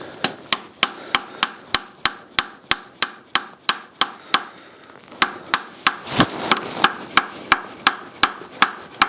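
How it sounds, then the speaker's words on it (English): Sharp, evenly spaced taps from a long aluminium tube tool striking a part during a Mini Cooper N14/N18 engine rebuild, about two dozen metallic knocks in a steady rhythm, close and loud, with no talking. "So I do have a made up tool here, just a long tube of aluminium. Let's give this a few taps."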